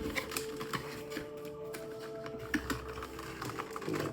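A blade slices open the sealed sticker on a box for a 1/12 scale action figure, producing quiet clicky ticks and soft scraping taps at an irregular pace, close and faint, with no one speaking.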